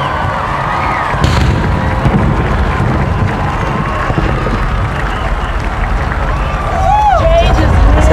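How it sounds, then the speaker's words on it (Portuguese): A 21-gun cannon salute at Barack Obama's presidential inauguration, heard as a single sharp boom early on over a constant roar of a large outdoor crowd. "Essa salva de 21 tiros também é uma tradição"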